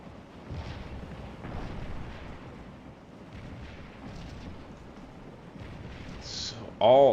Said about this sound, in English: There's so much artillery.